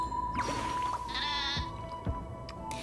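Birds in the Honkai Star Rail video game bleating like sheep, several wavering bleats repeating over steady game background music, fairly loud and close.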